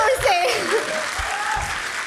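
Audience applause in a live interview setting, moderate and brief, with a talking voice running over the clapping at the start.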